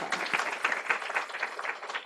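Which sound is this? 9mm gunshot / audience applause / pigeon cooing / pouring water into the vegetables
audience applause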